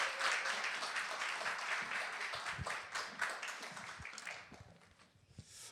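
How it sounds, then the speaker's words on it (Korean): A church congregation applauds steadily for several seconds to welcome a pastor, a dense wash of clapping that thins out and softens toward the end. "큰 박수로 우리 목사님을 환영했습니다."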